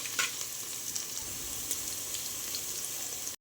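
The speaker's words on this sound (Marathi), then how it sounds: "कांदा छान परतवून घ्यायचा आहे." Chopped onion sautéing in a pan for hotel-style chicken soup, a steady close sizzle with light crackle that runs unbroken and alone before stopping abruptly.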